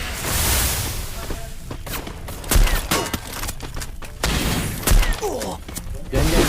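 Bursts of gunfire from a shooting video game, several sharp shots scattered irregularly across a busy mix of game noise, with players talking over the action.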